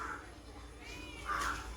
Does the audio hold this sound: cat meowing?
yes